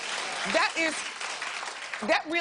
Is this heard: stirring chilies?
no